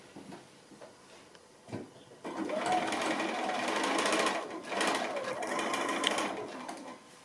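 Sewing machine stitching seams on a quilt star block, a few handling clicks, then a close, steady rapid whirr that runs for several seconds with a brief dip partway through.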